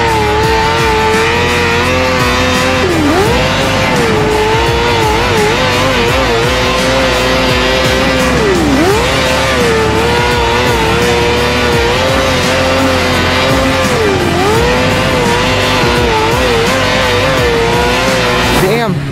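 A race car laps a track, its engine holding a loud, steady high drone that dips and swoops as it brakes and accelerates through corners, heard up close throughout.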